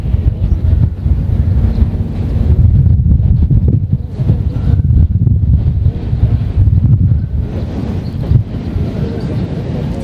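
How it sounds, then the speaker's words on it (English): Wind gusts buffet an effects microphone at an outdoor U16 match between Hong Kong Islanders and Kowloon, a low rumbling roar that swells and eases irregularly throughout. "just little gusts of wind blowing around, but it's nothing strong and regular, just the occasional gust"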